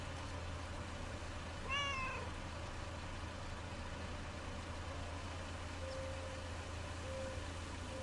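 A single faint cat meow rises briefly in a quiet Lake video game scene, set against a steady low hum with a couple of tiny chirps later.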